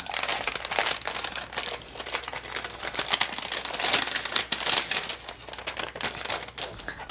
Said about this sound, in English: We'll open the bag first.